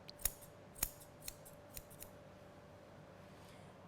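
Grooming scissors snip at a poodle's fur in a series of quick, faint cuts, a few sharp snips followed by softer ones, close by over a quiet background.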